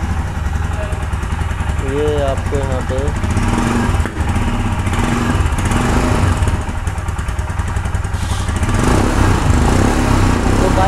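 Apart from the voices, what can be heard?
Royal Enfield Himalayan 2021 BS6 motorcycle exhaust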